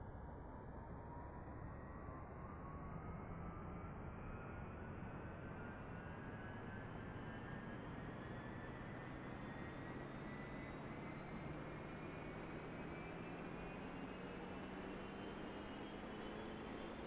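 A UH-1H helicopter turbine engine spools up during startup in the DCS flight simulator, a steady whine that rises slowly in pitch over a continuous broadband roar, heard alone without talk.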